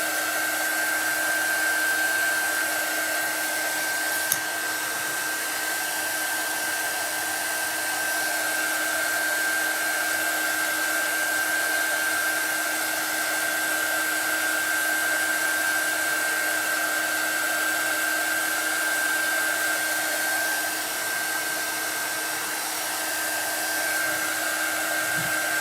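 A blow dryer runs as a steady, loud whir for the whole stretch, drying shimmer paint on a chalk stencil, with no break in its airflow.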